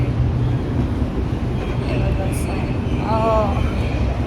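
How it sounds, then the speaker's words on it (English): Inside a Delhi metro train, a steady low rumble of the moving carriage fills the cabin, with brief tonal chimes or squeals rising near the end. "Metro is here. I've just boarded the train"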